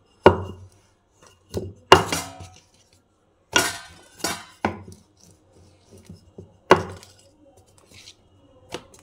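Puri dough is rolled out with a rolling pin, heard as irregular, close wooden knocks and clacks against the board with short quiet gaps between them.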